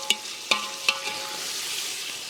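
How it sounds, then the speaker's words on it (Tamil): Tomatoes being added to onions and sautéing in a pan for a freshwater fish curry, with a steady sizzle, three sharp clanks of a utensil early on, and no talking. "இந்த டைமில் தக்காளி சேர்த்துருவோம்"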